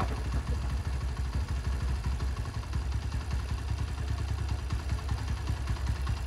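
A Honda Tiger motorcycle engine idles nearby with a quick, even put-put pulse and light mechanical clatter, holding steady at a fairly low level throughout.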